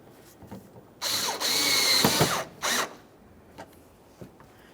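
A power drill drives Phillips-head mounting screws into a front bumper bracket on a 2011-2020 Toyota Sienna. Three close whirring bursts, the middle one longest, stand alone between quiet pauses.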